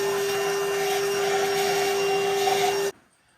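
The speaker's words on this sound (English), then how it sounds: "We'll vacuum a little bit more, see if we can't get some more junk out of there." Vacuum cleaner sucking debris from around the spark plug area of an old factory Ford engine, a loud steady whine with a constant high tone that cuts off abruptly near the end.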